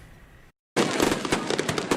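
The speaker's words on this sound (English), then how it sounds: "Fireworks sounding off on the 4th of July" Fourth of July fireworks in Cedar Park: after a short quiet gap, a dense barrage of crackling bursts and pops erupts and continues loudly to the end.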